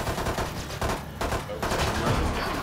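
Gunfire in Valorant, a dense burst of rapid shots with brief gaps, loud and close, mixed with game noise.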